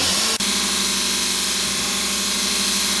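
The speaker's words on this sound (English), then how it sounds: "we're going to run just a sample grind" A Grizzly 2x42 belt grinder runs a ceramic belt across an old knife during a sample grind, a loud, steady motor roar and abrasive hiss with a brief click near the start, no voices.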